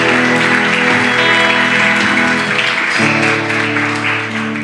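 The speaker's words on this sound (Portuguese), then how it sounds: "Você pode aplaudir o nome de Jesus." A church congregation applauds loudly and steadily for several seconds, a dense close wash of clapping hands that holds its level with a slight dip near the end, while music plays behind it.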